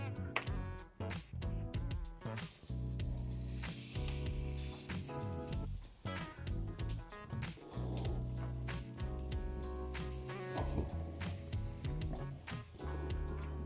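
St. Louis ribs sizzle over direct heat on a grill, giving a steady bright hiss broken by crackles and spits, with occasional clanks and thuds as meat is set down.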